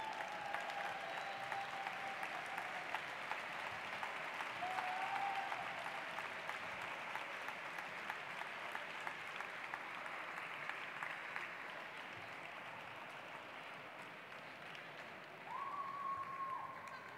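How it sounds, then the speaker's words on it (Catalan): Steady, dense applause from a large audience at a graduation ceremony fills the whole stretch, evenly sustained with faint tonal squeaks now and then. "Un fort aplaudiment."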